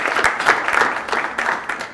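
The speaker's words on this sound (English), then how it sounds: "Round of applause, please." A small crowd claps at an awards ceremony for a hackathon, a short burst of brisk, dense applause close by with no voices over it.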